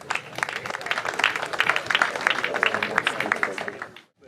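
Audience at a polytechnic matriculation ceremony breaks into a dense round of applause, many hands clapping steadily at moderate distance for about four seconds before stopping abruptly.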